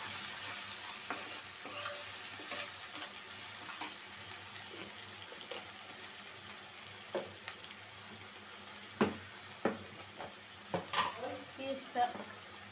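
Whole spices and salt fry in oil in a pan for a chicken and potato curry. A soft, steady sizzle runs quietly throughout, broken by scattered stirring scrapes and knocks that come more often toward the end.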